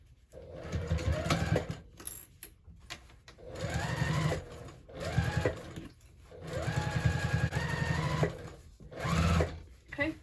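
A sewing machine stitches a fabric hobo bag in four bursts of whirring motor separated by brief stops, close and moderately loud, with a voice talking quietly around the stitching.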